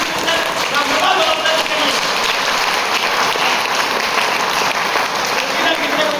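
Loud, steady applause fills an Ayurveda seminar hall in Bijnor, a continuous rushing crowd clap that holds at an even level throughout, with voices mixed in beneath it.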